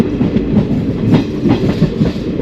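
The 20966 SF Express runs on rural track with a loud, close, rhythmic clickety-clack of wheels over rail joints above a constant rumbling roar.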